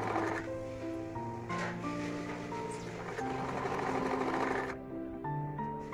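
A sewing machine stitches a sleeve seam on a kurti being made from an old sari, its fast, steady whir running close and loud through most of the stretch before stopping near the end.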